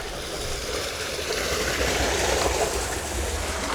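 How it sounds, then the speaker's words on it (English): Water rushes steadily down a mountain waterfall in Japan, a continuous broadband roar of moderate loudness with no voices. "Look at all of the water pouring down here."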